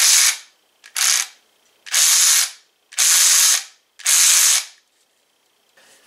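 An Avid Power 12V 3/8-inch cordless ratchet wrench, model ACRW106, running unloaded in five short bursts of about a second each, a loud, close, whirring motor buzz with pauses between presses.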